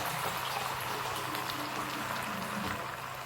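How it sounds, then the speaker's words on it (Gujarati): Half a glass of water poured into a vegetable curry mixture in a cooking pot, giving a steady, close, bubbling liquid rush that holds at an even level throughout, with no talking. "હવે આમાં અડધો ગ્લાસ એટલું પાણી એડ કરીએ"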